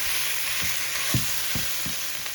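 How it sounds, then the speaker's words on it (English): Ground beef, still partly frozen, frying with onions in a pan, giving a steady close sizzle with a few soft scraping stir strokes spaced through it. "I'm gonna put my ground beef in there to start cooking"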